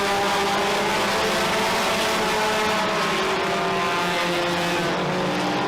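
Race cars roar around Merrittville Speedway in a steady, dense engine drone that holds loud and continuous throughout, with several cars running close together on the oval.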